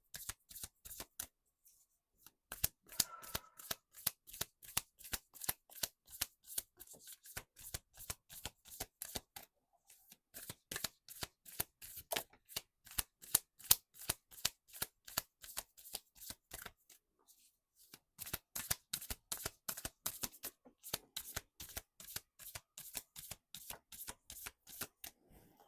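Tarot cards are shuffled in repeated crisp riffling bursts, close and clear, separated by a few short pauses over about half a minute, with no talking.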